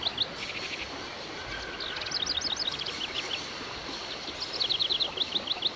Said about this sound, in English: All these birds in a station.